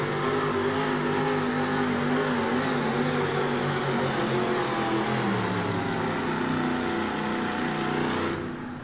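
A 4WD pulling truck roars at full power down a dirt pull track at a 1988 USHRA event in Albany, Georgia, its engine a steady, loud, harmonic-rich drone that holds for several seconds before dropping off abruptly near the end.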